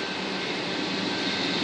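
A train rumbles steadily past at Natural Tunnel State Park in Duffield, Virginia, a dense, continuous roar of rolling cars and wheels at close range, with no voices.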